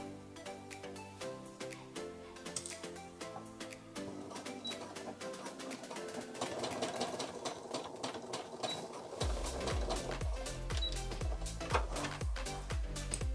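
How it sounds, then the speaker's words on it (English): A domestic sewing machine top stitches along a previously sewn line on an Aspen pullover, its steady mechanical whirr running continuously and close up, growing louder in the last few seconds. "I'm just going to eyeball the line that I top stitched before, and I'm just going to go over that again."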